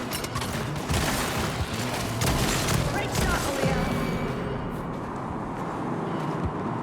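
Gunfire crackles from a crane-mounted position in a VR video game, dense and loud at first, then thinning out toward the end with mechanical rumble underneath.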